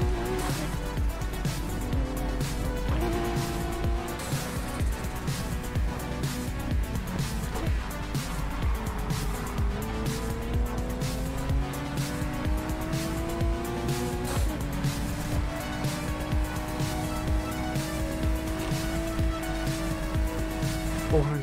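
A Ferrari Testarossa driven in the video game Need for Speed Heat, its engine revving up and down through gear shifts with occasional tire squeal, beneath steady background music.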